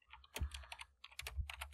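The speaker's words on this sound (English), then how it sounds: "to bring an interface up, type sudo" Quick typing on a computer keyboard as a Linux command is entered, a close burst of crisp key clicks in two short clusters with a heavier thump in each, alone and without talk.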